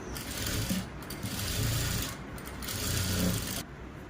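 Sewing machine stitching a 1.5-inch hook strip for a saree, a steady close mechanical whir that runs almost continuously, briefly easing around the one-second mark and stopping shortly before the end.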